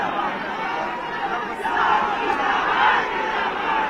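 A dense crowd of supporters surges at the Kalibagh cemetery gate for the burial of Mukhtar Ansari, a steady roar of many overlapping voices shouting and chattering, loud and continuous throughout with a slight swell toward the end.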